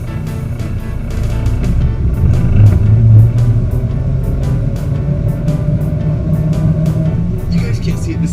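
A 1953 Chevrolet Bel Air with a manual transmission idles after starting, a loud, steady low engine rumble that holds evenly throughout with no talk over it.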